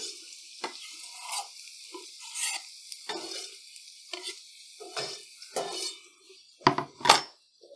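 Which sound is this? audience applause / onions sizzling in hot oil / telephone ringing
onions sizzling in hot oil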